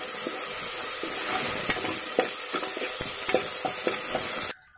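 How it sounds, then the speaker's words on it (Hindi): Ginger garlic paste sizzles and fries in hot oil in a pan while being stirred for a Pindi paneer chole masala, a steady close hiss with scraping stir strokes, ending abruptly. "अब हमें इसे फ्राई करना है, अदरक लहसुन पेस्ट को भूनना है।"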